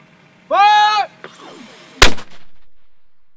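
A live-fire 120mm mortar fired by Portuguese soldiers, a single sharp, loud close blast with a brief rumbling tail, preceded by a shouted command.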